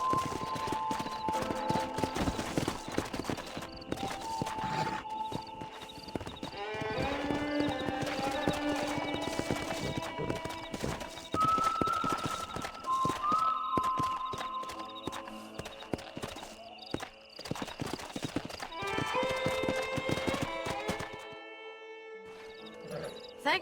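Several horses clip-clop steadily on the ground in the Red Dead Redemption video game, their hooves close and distinct, with an occasional whinny and game music playing underneath.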